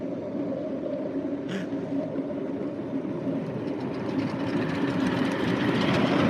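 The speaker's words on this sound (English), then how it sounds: "your loco's coping with this fine" A 5-inch gauge model locomotive runs along the track at the Brent House miniature railway, a steady rolling rumble with faint rhythmic wheel clatter that grows slightly louder toward the end.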